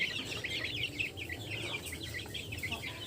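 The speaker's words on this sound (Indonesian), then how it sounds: "Bisa dilihat ini adalah ayam kampung nih ya" Native village chicks and chickens, a crossbreed flock newly mixed by age, cluck and cheep continuously at close range, a busy overlapping chatter of bird calls with no voices.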